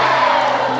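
A crowd at a Pokémon card event shouting and yelling together in a loud, dense burst, brief and close, with no single voice standing out.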